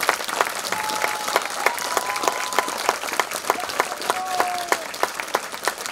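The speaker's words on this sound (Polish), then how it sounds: "Wielkie brawa, proszę państwa, dla najmłodszych." Audience applause after a school music concert at a year-end event, a steady wash of many hands clapping with a few sharper individual claps standing out.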